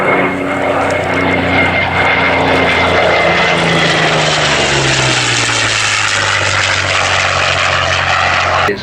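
A loud vintage propeller plane drones steadily overhead at an airshow, its engine pitch sliding lower as it passes, with no voices.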